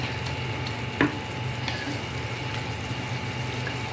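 Curry leaves frying in oil over a low flame give a steady soft sizzle throughout, broken by a single brief clatter near the start, with no voices.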